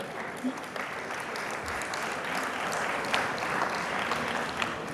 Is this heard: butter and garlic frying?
no